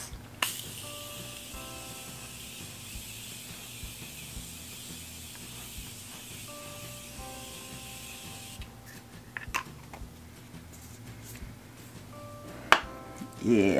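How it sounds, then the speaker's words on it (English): A can of Morphe makeup setting spray hisses in a steady, close burst that runs for several seconds and then changes character, with faint electronic tones and small clicks underneath. "I'm gonna spray with my Morphe spray."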